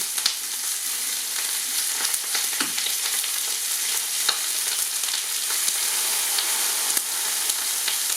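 Brisbane River bream fries in a smoking-hot pan, a loud, dense continuous sizzle with scattered crackles and pops throughout, no one speaking.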